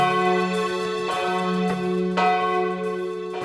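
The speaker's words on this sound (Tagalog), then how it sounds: "Kampana." Church bells ring with sustained, shimmering tones, new strikes landing about every half second and layering over a steady ringing hum.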